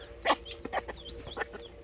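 Chickens on a farm cluck in short, separate bursts close by, several quick calls with brief pauses between them and no talking.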